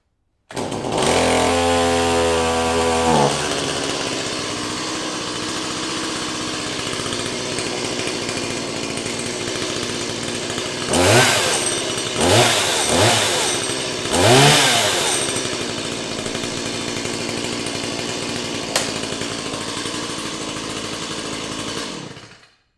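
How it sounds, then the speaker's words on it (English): A Stihl MS 170 chainsaw engine sputters with a few pulls, catches, and then runs loudly and continuously, revving up several times along the way. "So that is the proper way to get this chainsaw started."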